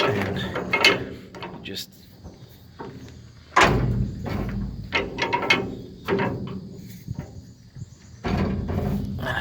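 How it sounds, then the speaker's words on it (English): A giant turnbuckle puller with a big Acme thread is cranked tight on a dump trailer under repair, giving metallic clanks, ratcheting knocks and grinding thumps at irregular intervals, while someone speaks briefly. "I've got this what I call a puller. It's like a giant turnbuckle."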